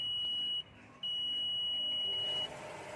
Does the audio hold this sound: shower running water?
no